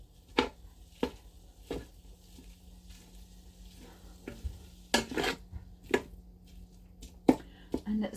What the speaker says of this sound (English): can you hear it starting to sizzle?